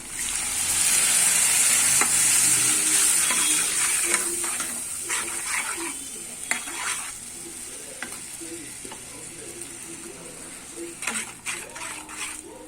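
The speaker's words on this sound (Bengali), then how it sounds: "এবার এটা পেঁয়াজ ভাজার মধ্যে দিয়ে দেবো।" Poppy seed prawn masala hits fried onions in a hot pan, sizzling loudly at first, then settling into softer frying crackle with occasional stirring clinks.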